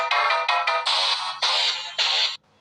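A lead synth sound from a beat-making loop pack plays alone: bright, sustained melodic notes in a steady rhythmic pattern of held phrases, then it cuts off abruptly.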